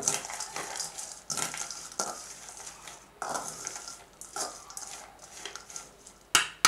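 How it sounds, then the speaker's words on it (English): Corn kernels being stirred with cumin, chili powder, salt and lemon juice in a bowl, with repeated close scraping and clinking of a spoon against the dish and soft wet mixing sounds, no talking. "Give it a good mix."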